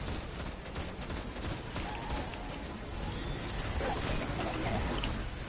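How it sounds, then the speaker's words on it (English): Video game fireworks going off in a steady, crackling barrage of rapid pops and bursts with occasional whooshes, loud and continuous for several seconds with no talk over it. "Oh my goodness. Wow. Fireworks."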